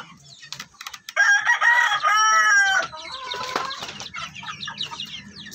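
A Shamo hen in a small backyard gives a loud, drawn-out squawking call up close, then drops into a run of quieter, choppy clucks.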